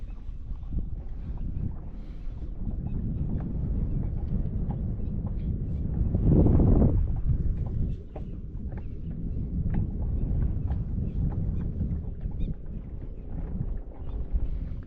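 Wind gusts buffet a small fishing boat out on open water, a steady rushing rumble with a stronger surge midway, no voices heard.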